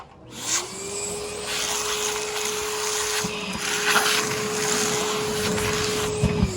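A shop vacuum switches on after a brief thump and runs with a steady whine and airy rush throughout, close by during wood sash refinishing, with a few small clunks of work along the way.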